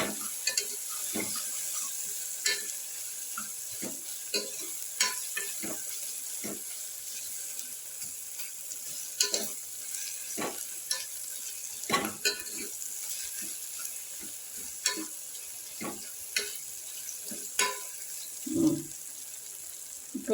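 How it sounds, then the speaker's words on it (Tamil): Curry leaves and onions sizzle steadily in a pan for biryani, with frequent scraping stirs and a few sharper clinks over a constant frying hiss. "கருவேப்பிலை, வெங்காயம் நல்லா ரோஸ்ட் ஆகட்டும்."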